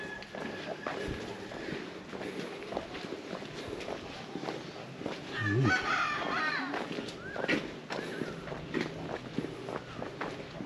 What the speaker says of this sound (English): But I got some chickens.